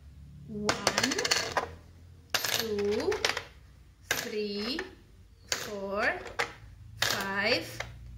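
Coins drop one after another onto a tray or glass in five spaced bursts, each a bright clinking jingle with ringing, wobbling tones as they settle, close and clear, while a voice counts along.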